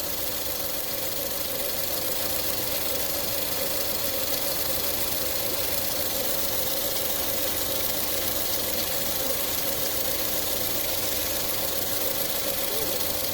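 A 2013 Ford Escape SE with the 1.6-litre EcoBoost turbo engine, showing fault code P26B7, idles after running for 50 minutes. It makes a steady, even hum with a faint ticking texture at moderate volume, and no voices are heard.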